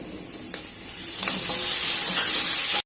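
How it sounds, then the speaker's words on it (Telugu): Tomato pieces drop into a hot pan of softened potatoes and onions for poha upma, a sharp hiss rising into a steady sizzle while a spoon stirs, close and loud, with no voices. "టమోటా ముక్కలను కూడా వేసేద్దాము."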